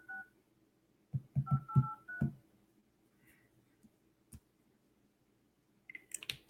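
Telephone keypad tones sound during an outgoing business call: a quick burst of several dialing beeps in a row, fairly clear but quiet, followed by faint clicks and a short electronic tone near the end.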